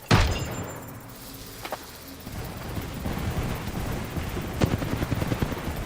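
Bursts of gunfire crack through a dense, noisy game soundscape, with a sharp shot at the start and more scattered blasts later, loud and close.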